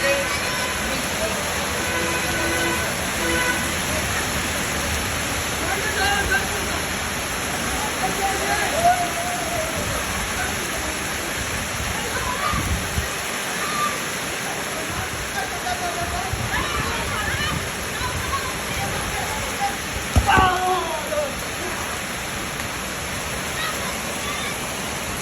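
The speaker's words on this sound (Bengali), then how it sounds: "আষাঢ়ে বৃষ্টি।" Monsoon rain drums on a tin roof over a street corner near the navy checkpoint in Khalishpur, Khulna, a dense steady roar with occasional louder spatters and faint voices in the background.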